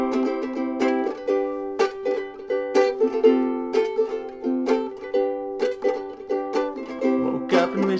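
Strummed ukulele chords playing a song, a steady rhythmic pattern of bright plucked strums, close and clear with no voice over it.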